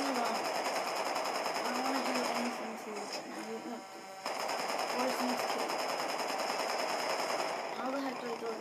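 Rapid automatic gunfire from the video game Crackdown, a dense continuous rattle running nearly the whole time with a brief dip midway, while a voice talks over it.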